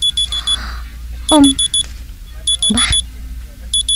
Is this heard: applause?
no